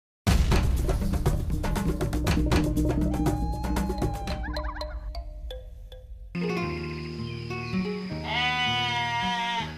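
Tandem sheep bleat on a farm, with several loud, repeated nasal calls close by over steady background sound.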